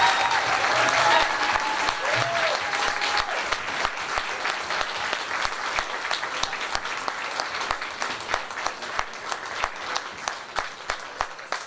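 A gala audience applauds a couple receiving a Family of the Year award, dense clapping loud at first, then gradually thinning into scattered, distinct claps as it dies down.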